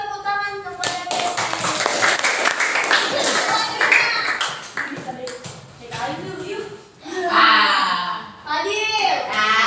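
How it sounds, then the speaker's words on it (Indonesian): Classroom applause for a student, a burst of many children's hands clapping up close, mixed with a teacher's voice and kids chattering throughout. "beri tepuk tangan kepada Kevin"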